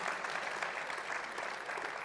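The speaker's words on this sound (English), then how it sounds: "How about a big round of applause for that?" A big round of applause from the audience at an event, dense continuous clapping that stays fairly even throughout, heard at moderate level with no clear talking.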